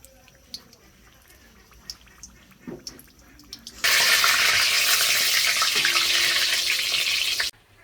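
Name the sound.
frying banana-stem fritters in oil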